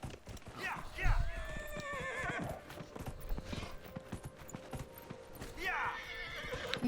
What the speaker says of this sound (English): Take that horse.